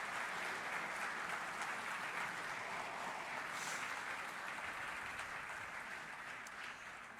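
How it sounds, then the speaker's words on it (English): Audience applause at the SuperValu TidyTowns Awards 2023 ceremony, a steady, dense wash of clapping from a large crowd that holds without pause and stays fairly soft and distant throughout. "I think you should give yourselves a round of applause"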